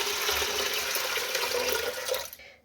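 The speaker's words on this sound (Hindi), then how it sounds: "3 गिलास के करीब मैंने इसमें पानी डाला है।" Water runs in a steady, full stream into a pressure cooker holding lentils for dal makhani, close and continuous, then cuts off abruptly near the end.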